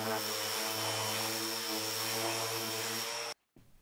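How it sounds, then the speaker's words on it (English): Power sander working plywood down to 120 grit, a steady loud whining drone with a tonal hum that runs continuously for over three seconds, then cuts off abruptly near the end, leaving quiet. "I'm just going to give it all a sand down to 120 grit."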